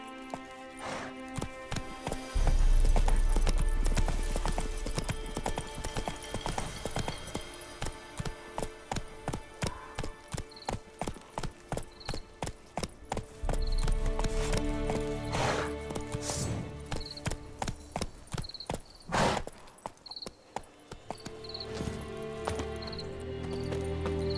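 Roach, the horse from The Witcher 3, gallops in a steady, rapid run of close hoofbeats that carries on for most of the stretch, loud and near, with game ambience around it.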